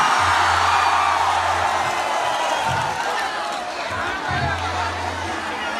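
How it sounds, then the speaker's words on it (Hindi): Dense crowd noise with cheering and whoops from a live Bhojpuri stage show audience in Kolkata, a loud continuous roar of voices and clapping that holds steady throughout, with a low music hum underneath. "ताली बजा के सुना दीजिए"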